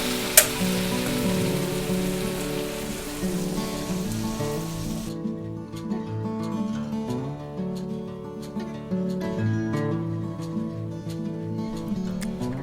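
Sausage stir-fried with roasted chili paste in a pan gives a steady, close sizzle with soft scraping and tossing from stirring, crackling continuously throughout.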